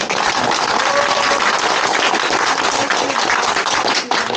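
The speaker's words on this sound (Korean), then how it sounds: "다시 한번 박수 한번." Loud, dense applause from an audience at a political visit to Suncheon by lawmakers, sustained and even before tapering slightly near the end.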